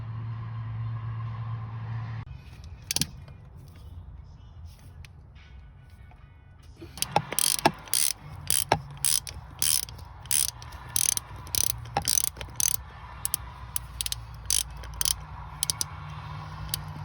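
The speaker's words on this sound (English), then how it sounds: "Give us access to the PCV valve, which is right there. We'll remove that with a 19mm socket." A ratchet with a 19mm socket works loose the PCV valve on a 2015-or-later Subaru WRX. After a low engine-bay hum, rapid quick clicking bursts of the pawl repeat nearby in short runs, loud and close, with no speech.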